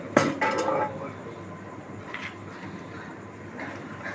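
Kanji rice porridge is stirred in a large pot for a church feast at Puthenangadi, with a few loud metallic clanks at first and then softer scraping and stirring while people talk nearby.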